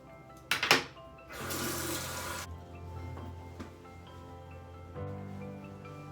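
Tap water runs at a bathroom sink for about a second while face gel is washed off, a brief splashing rush preceded by a couple of sharp knocks and followed by a low steady hum.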